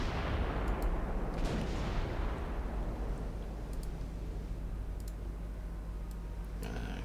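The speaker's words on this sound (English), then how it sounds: "St. Louis is actually giving me a broadside." Naval gun broadside from the cruiser St. Louis in the warship game Ultimate Admiral Dreadnoughts, set in a 1931 US campaign: a fairly faint burst of cannon fire that rumbles and decays over several seconds, followed by scattered light clicks.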